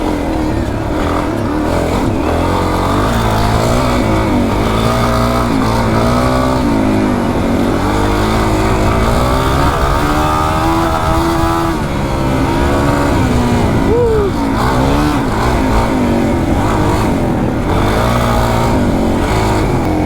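A Suzuki DRZ400 dual sport motorcycle with 15-38 gearing climbs a rocky, snowy Colorado trail, its engine droning loud and close throughout, rising and falling in pitch as the rider works the throttle.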